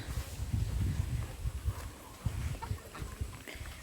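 Chickens cluck softly at a small family chicken farm, with a few low, muffled bursts close by against quiet rural background noise.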